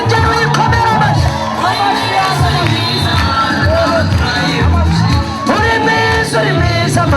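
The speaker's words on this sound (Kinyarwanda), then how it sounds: "ongera uyikomere amashyi" A church congregation claps and cheers loudly at a worship service, with a dense, continuous mix of applause, shouts and whoops, and singing voices rising through the crowd noise.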